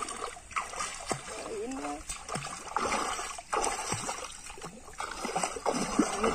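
People swimming outdoors splash and churn the water in irregular bursts, while voices talk and call over the sloshing.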